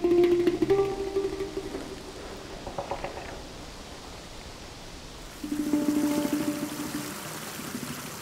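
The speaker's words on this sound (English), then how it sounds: "Waterfalls from above fall directly onto the street." Waterfalls pour from above directly onto a dangerous Bolivian mountain road, a steady rushing wash of water that swells louder near the start and again toward the end.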